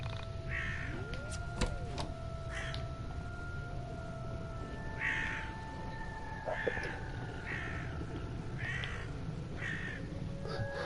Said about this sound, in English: This bird needs to shut up.